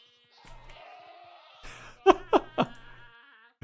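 Goats bleating in Minecraft snapshot 21w18a: a few soft game tones, then three quick, nasal bleats in a row, close and clear against a quiet background.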